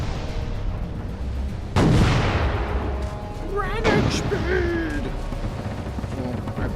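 A ship's left-side cannons in the Furious Seas VR game fire two heavy booms about two seconds apart, each with a rumbling tail, over steady ambient sea and game noise.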